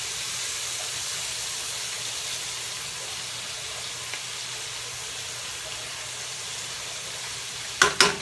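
Onions sautéing in a pan give a soft, steady sizzle at low level, with a couple of sharp clatters near the end.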